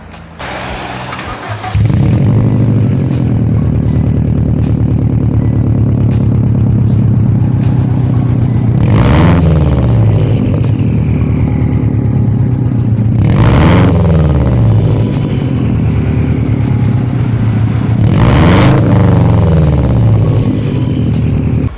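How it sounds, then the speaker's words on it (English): A steady, low burbling Subaru boxer engine rumble idles loudly, with three surging revs that swell and fade at even intervals. "It's that iconic, unmistakable sound that makes a Subaru easily recognizable wherever it passes by."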